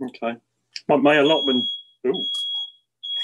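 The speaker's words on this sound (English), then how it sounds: "I better mute and get the smoke detector off" A household smoke detector sounds a thin, high-pitched electronic beep, heard once mid-clip and again at the end, fainter than the close speech that fills most of the moment.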